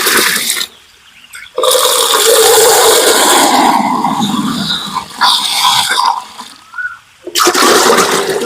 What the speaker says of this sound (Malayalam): 10 കപ്പ് വെള്ളമാണ് ഒഴിക്കുന്നത്.